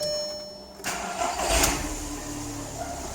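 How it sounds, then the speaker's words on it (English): A car engine cranks and catches in a warm, normal start, then settles into a steady idle close by, with no speech. "If I start the car now, you'll even see we're not going to get a cold start."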